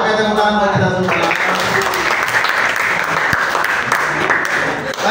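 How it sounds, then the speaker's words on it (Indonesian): Loud clapping fills a school classroom after a group chant, with students' voices and a rhythmic clap pattern at first, then a dense burst of applause that stays strong to the end. "Oke, tepuk tangan buat kita semua."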